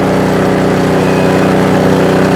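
A Kraft&Dele KD194 inverter generator running under load while powering an electric fan heater, giving a loud, close, steady engine drone with an even buzzing hum and no voices.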